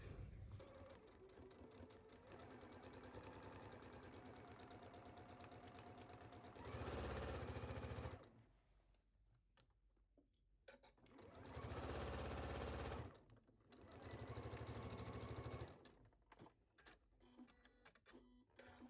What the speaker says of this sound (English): you're going to sew this at your machine at 5/8